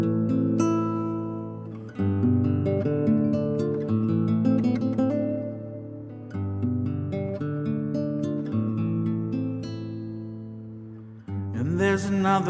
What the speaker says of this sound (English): But it's pretty much just acoustic guitar, so it's going to sound like this.